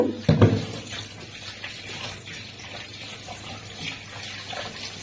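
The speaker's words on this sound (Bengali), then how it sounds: "এবার মাছটাকে আমি ধুয়ে নেব" Koi fish, already salted, is rinsed under a running tap, with a steady rush and splash of water close by and a brief clatter near the start, with no talking.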